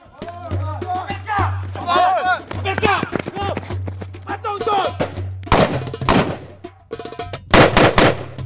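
Gunfire at a firing range in a West Bank settlement: someone talks at first, then a few sharp, loud shots crack out, two or three near the end.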